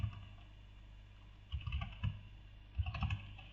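Code being typed on a computer keyboard, quiet at first and then a few short clusters of close key clicks over a low steady hum, no speech.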